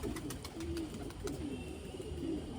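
Pigeons of the 165 Malwai breed coo in repeated low, soft phrases, close by, with faint chirps and small noises between the calls.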